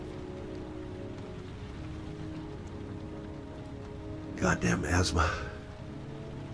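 Steady rain pours on surfaces in the video game Heavy Rain, a continuous hiss heard throughout, with someone briefly speaking over it near the end.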